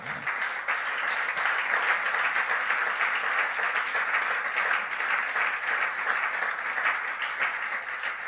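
A church congregation applauds loudly and steadily throughout, a dense continuous wash of clapping from many hands with no voices rising above it.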